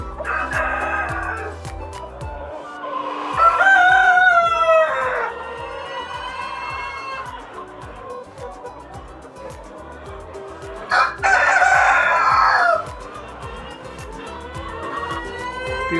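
Tiger breed chickens on a poultry farm: a rooster crows loudly twice, several seconds apart, over steady background clucking and low barnyard noise.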